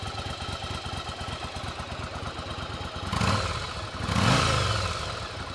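A 1997 Yamaha Virago 750cc motorcycle engine runs nearby with a steady, throbbing idle, rising twice into brief revs before settling back down.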